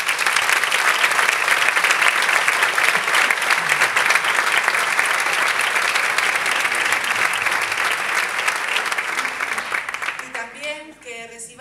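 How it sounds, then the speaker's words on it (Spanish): Audience at a town festival proclamation event applauding a theatre group, a long, loud burst of dense clapping that fades near the end as a voice begins speaking. "volver a reiterar un aplauso para el grupo de teatro La Cuadrilla"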